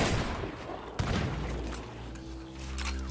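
Gunshots and booms in Sea of Thieves as a crew fights skeleton bosses on a burning boat: a sharp blast near one second amid dense rumbling battle noise, with another burst toward the end.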